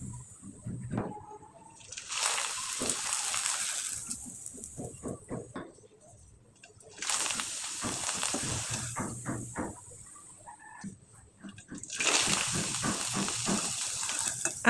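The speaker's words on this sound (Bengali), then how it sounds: "আমি একইভাবে অনেক কয়েকটা পিঠাই কিন্তু আপনাদের ভেজে দেখিয়ে দিলাম" Rice flour pitha cakes fry in hot oil with a soft, hissing sizzle that rises and falls in bursts, fairly quiet and close, while a voice talks over it.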